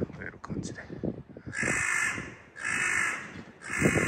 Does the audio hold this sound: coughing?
no